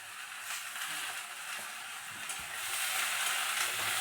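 Spices seasoned with salt, sugar and turmeric fry in a pan with a continuous sizzle, interrupted by stirring scrapes and one low knock. The sizzle grows slightly louder toward the end, and nobody speaks.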